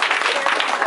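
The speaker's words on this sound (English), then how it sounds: "Clap your hands." Students applauding in a classroom, a brief burst of dense clapping from a group, close and steady throughout.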